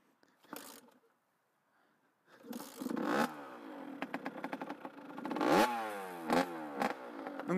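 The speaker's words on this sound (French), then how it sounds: "Je vais vous faire écouter le bruit au ralenti." A warm Yamaha DT 50 50cc motorcycle engine comes in after a brief quiet start, running close and fairly loud with a steady buzzing idle broken by several quick throttle blips that rise and fall in pitch.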